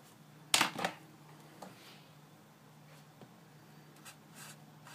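A pen scratching on paper while a domain of a function is written out, a brief loud stroke followed by faint scattered scratches in a quiet room.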